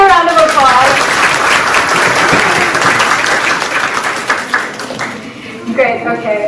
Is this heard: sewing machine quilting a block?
no